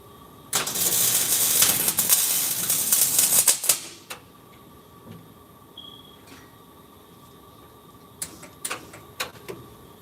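Welding around a tack-welded joint, a loud continuous crackling hiss lasting a few seconds before stopping abruptly, then quiet with a few sharp clicks and knocks.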